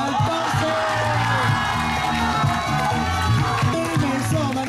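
Crowd at a street-dance battle in Chiayi, Taiwan, cheering, whooping and shouting continuously over loud hip-hop music, a dense, steady roar of voices throughout.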